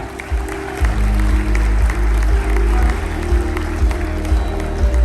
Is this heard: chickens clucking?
no